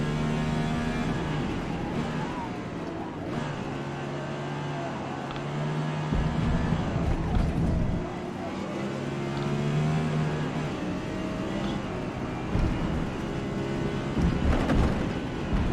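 A race car in Forza Motorsport drones steadily, its engine tone rising and falling through deliberate gear shifts, with a deep rumble and occasional heavier bursts throughout.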